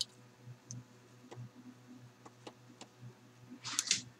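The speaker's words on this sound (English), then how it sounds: "I'm going to snip this thread off" A pair of sharp metallic snips near the end as scissors cut a thread on a handmade fabric flower, standing out over faint ticks and low room hum.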